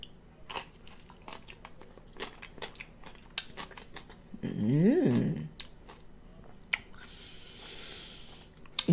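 Someone bites into and chews cucumber at close range during a mukbang, with a series of crisp crunches and clicks, plus a brief louder swell midway.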